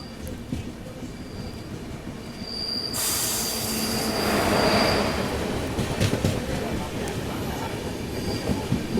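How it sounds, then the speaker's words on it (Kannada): An oncoming train passes alongside a moving passenger train, its wheels squealing and rumbling as it rushes by close, the roar swelling then easing into steady clattering. "ಅಪೋಸಿಟ್ ಯಾವುದೋ ಟ್ರೈನ್ ಬರೋದೈತಿ"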